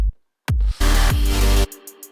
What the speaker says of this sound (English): This is the fattest kick I've heard in a long